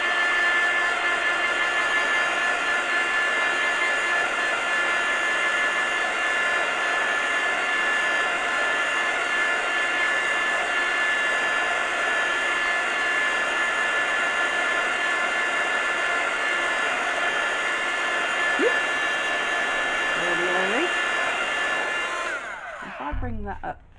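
A heat tool blows steadily for a long stretch to dry ink on collage paper, a continuous loud whirring roar with a high whine, cutting off at the end.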